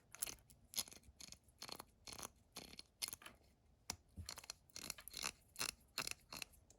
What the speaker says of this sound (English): What does a 1930s ratchet sound like that's been recently lubricated?